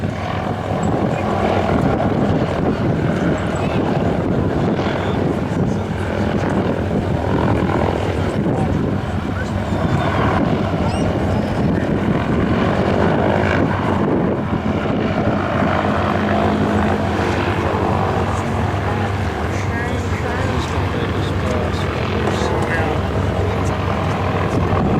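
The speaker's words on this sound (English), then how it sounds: "the B-29 is maneuvering to come up over your right shoulder for a second photo" The B-29 Superfortress "Fifi", a four-engine World War II bomber, makes a photo pass at an air show, its propeller roar steady and loud for the whole stretch, with a voice talking over it.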